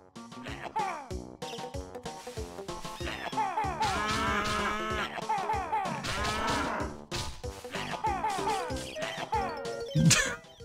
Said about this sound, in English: What's mooing at me?